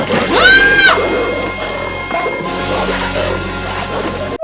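A glass window smashed open with a loud, sharp crash and bright ringing shards, followed by a noisy scuffle with voices and clatter.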